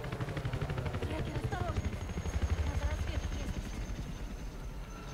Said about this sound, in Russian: идет вертолет.